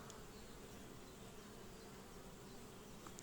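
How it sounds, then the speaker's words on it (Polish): Honeybees swarm around their hives in an apiary, making a soft, steady, continuous buzz with no pauses and no voices. "Widzę, że pszczółki pracują."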